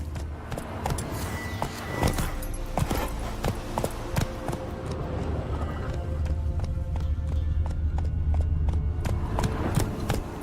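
A horse gallops in The Witcher 3, its hooves pounding in a fast, steady clip-clop over a dense game soundscape of ambient rumble and effects.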